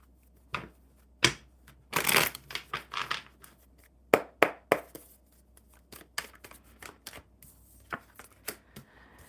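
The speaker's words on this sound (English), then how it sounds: "One more shuffle." Tarot cards being shuffled by hand at close range, a series of crisp riffling bursts and taps in an irregular rhythm with short pauses between shuffles.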